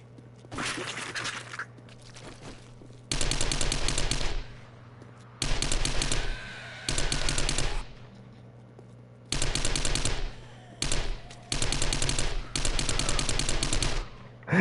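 Automatic gunfire in the video game 7 Days to Die during a horde night, fired in several separate sustained bursts of rapid shots, loud and close, with short quiet gaps between them.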